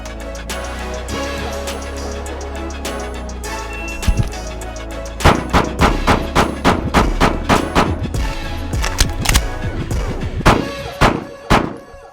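Handgun shots ring out during a live-fire drawing drill with a big pistol, a few isolated reports first and then a fast string of sharp, loud cracks in quick rhythm, closely spaced, with no voices.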